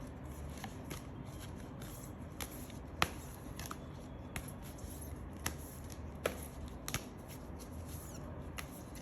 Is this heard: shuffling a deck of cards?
yes